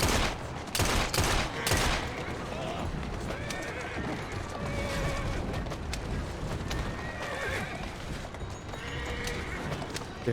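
Horses neighing and hooves clattering during a carriage chase in the video game Assassin's Creed Syndicate, loud whinnies over gunfire bursts and rumbling wheels, with faint talk beneath.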